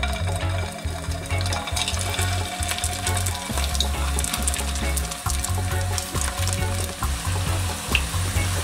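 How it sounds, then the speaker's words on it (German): Meatballs of minced meat sear in hot olive oil in a pan, a dense, continuous crackling sizzle with sharp spits and pops, and a lower rhythmic clatter underneath, with no voices. "Dann gebe ich die Hackfleischbällchen ins heiße Öl."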